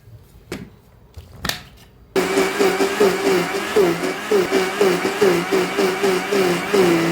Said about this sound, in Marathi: आता मिक्सरला लावून घेऊया बारीक असं पेस्ट